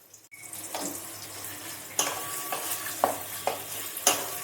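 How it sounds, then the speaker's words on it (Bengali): Sliced onions dropped into hot oil left over from frying potatoes, with a steady close sizzle and a few sharp stirring scrapes and clatters near the end, no voices. "এই আলু ভাজার তেলেই আমি এই পেঁয়াজগুলোকে দিয়ে দেব"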